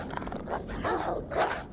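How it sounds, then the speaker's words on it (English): Dogs in the video game Alone in the Dark: The New Nightmare let out short, gruff barks and growls, a couple of close bursts within a murky game soundscape. "Oh, Resident Evil dogs."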